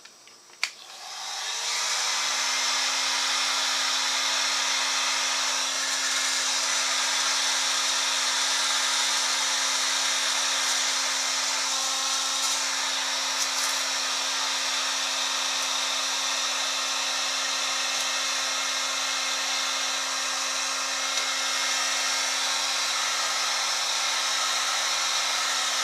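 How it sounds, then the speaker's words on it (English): Heat gun blowing steadily on an old vintage ice box refrigerator to strip its old finish, a continuous loud airy whoosh with a low motor hum that starts after a brief click and runs unbroken, with no talking. "I'm hoping that my heat gun will do it."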